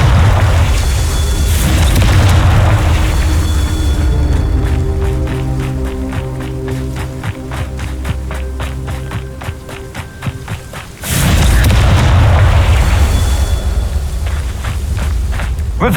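Confringo fire-spell blasts in Hogwarts Legacy, loud booming bursts that fill the mix at the start and again near the end, with rhythmic game sounds and softer rumbling in between.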